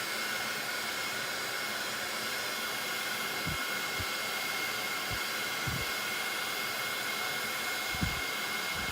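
A heat gun blows hot air over embossing powder on a handmade card, giving a loud, steady broadband roar throughout with a few faint low thumps beneath.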